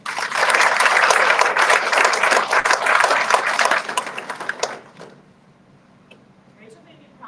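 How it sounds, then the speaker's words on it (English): Applause from an audience at a senior retirement event, a dense sustained round of clapping for several seconds that fades out, leaving a quiet room. "Round of applause for the team."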